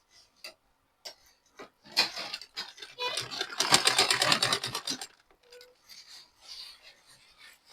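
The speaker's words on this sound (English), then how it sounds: "start fixing it, sewing it by" A sewing machine stitches an elastic band in a short, fast burst of rapid mechanical clatter, with quieter taps and fabric handling before and after, close and fairly soft.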